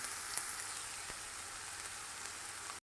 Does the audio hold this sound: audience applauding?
no